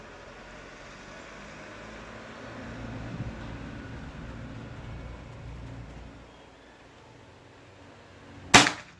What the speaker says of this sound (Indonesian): Oke, tembakan kedua